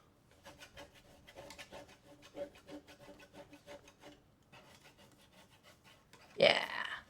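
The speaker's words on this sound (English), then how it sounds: "And then you can do some serious scrapage," Paint being scraped off a vintage-style painted background, a burst of rough rasping close by, loud and brief near the end after quieter rubbing and scratching strokes.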